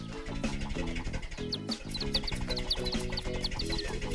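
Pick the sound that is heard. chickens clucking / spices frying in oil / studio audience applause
chickens clucking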